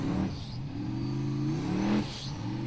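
Formula Offroad race car engine revving hard during a championship event, rising and falling roars with gear-like pitch swings, loud and close, with no talking over it.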